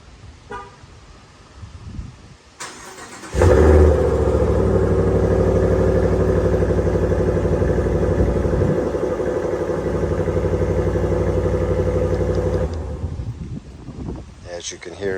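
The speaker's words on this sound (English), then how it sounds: "As you can hear, it's got a pretty bad sound to it. That's standard exhaust." A 2024 Ram 1500 Longhorn pickup with standard exhaust idles with a deep, steady rumbling note for about ten seconds, preceded and followed by quieter ambient noise.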